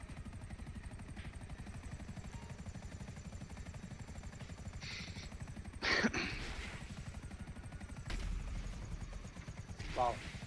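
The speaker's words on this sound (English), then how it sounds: "And we really got the working helicopter." A helicopter in GTA Online gives off a steady, rapid rotor chop throughout, with game effects and brief bursts of gunfire-like noise over it and a voice talking intermittently.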